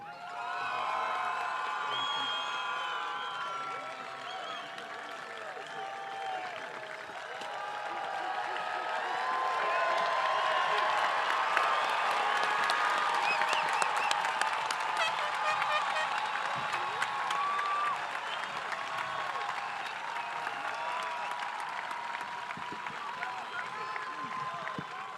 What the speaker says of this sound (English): One more round of applause for the class of 2026